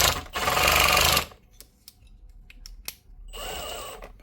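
A broken cordless drill set to drill mode whirs loudly for about a second, then falls quiet apart from scattered clicks and ticks of the slipping clutch, and spins up again near the end.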